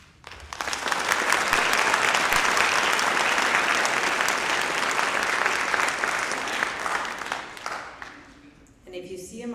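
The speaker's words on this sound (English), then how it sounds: "Please give them all a round of applause." A graduation audience gives school staff a long, loud round of applause that swells quickly, holds steady, then fades before a voice resumes.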